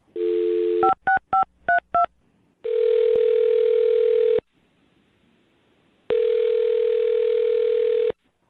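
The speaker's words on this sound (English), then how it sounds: "I'm dialing her phone number right now." A telephone call is placed: a steady dial tone, then a quick run of five touch-tone DTMF beeps, followed by two long ringback tones separated by silence, loud and clear over the line.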